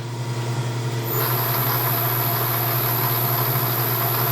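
A machine runs with its power down feed engaged at the slowest setting and slow spindle speed: a steady low mechanical hum, then a thin, high whine starts about a second in and holds at a constant level.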